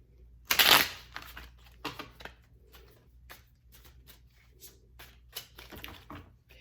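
Tarot cards are shuffled by hand in a few quick riffling bursts, one loud riffle followed by softer flicks and taps, close and alone without talk.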